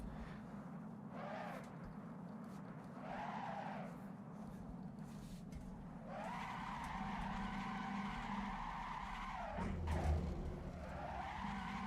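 A video-game car with a blown engine and wrecked transmission spins and skids while drifting, with repeated tire squeals rising over a rough engine drone, ending in a louder sustained screech.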